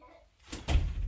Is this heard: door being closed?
yes